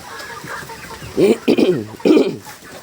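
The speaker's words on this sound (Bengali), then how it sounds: "এগুলো সব মুরগি এই দেখেন মুরগি মোরগ মুরগি" Several chickens clucking close by in short bursts, with a rooster call among them over a low background of strong wind.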